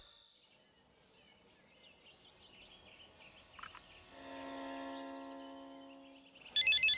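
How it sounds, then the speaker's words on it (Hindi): A telephone ringtone sounds in a Hindi-dubbed South Indian film scene: a brief high beeping at first, then a sustained electronic melodic tone, ending in a loud, bright burst of ringing, with no one speaking. "फोन तो उठाओ"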